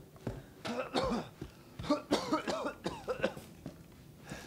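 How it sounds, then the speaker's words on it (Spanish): A series of harsh, repeated coughs from a character in the video game Resident Evil 7 teaser demo, several bursts in a row with short pauses between them, fairly close and moderately loud. "Okay, nuestro personaje está tosiendo."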